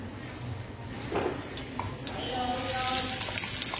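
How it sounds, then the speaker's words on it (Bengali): Chopped onions fry in hot oil in a pan for a Persian beef tawa fry, a close, continuous soft sizzle and hiss that grows a little louder, with someone speaking over it. "জাস্ট পেঁয়াজগুলোকে একটু ভেজে নেব।"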